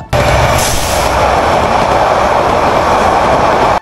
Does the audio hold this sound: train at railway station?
yes